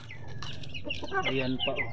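Chicken or rooster clucking in a series of short, close calls, with a person speaking over the clucks.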